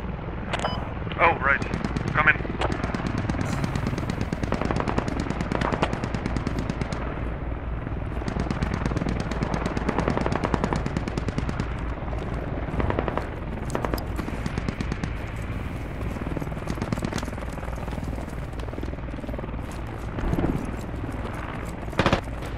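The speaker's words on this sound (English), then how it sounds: "I'm shooting enemies." Gunfire in the video game Escape from Tarkov rattles in irregular bursts and single cracks over a long stretch, with a person talking over much of it.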